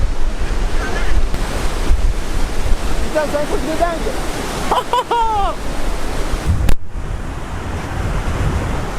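A roaring Yosemite waterfall throws spray in a dense, continuous rush close to the microphone, with wind buffeting and people exclaiming over it.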